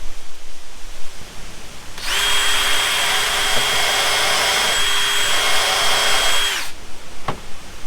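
Power drill countersinking holes in T1-11 wood siding, a steady high whine running about four and a half seconds at constant speed before stopping, followed by a brief click, loud and close with no talk.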